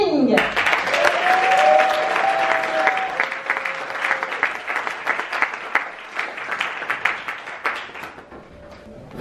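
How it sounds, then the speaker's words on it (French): A conference audience applauds a speaker being introduced, a loud burst of many hands clapping that gradually thins into scattered claps, with a brief tonal voice-like sound over the start. "Je vous demande d'applaudir Monsieur Johan Yang-Ting."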